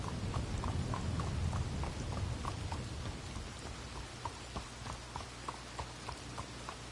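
Rain falling in the Red Dead Redemption 2 game world, a steady hiss with low rumble, heavier at first, while a horse's hooves clop rhythmically through it.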